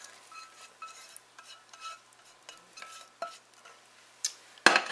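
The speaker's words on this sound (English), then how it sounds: "Stir that around because it gives it a little bit of a chance to cool off." Cake batter being stirred after melted butter goes in, a utensil scraping and clinking softly against a bowl in irregular strokes, with a sharper clink near the end.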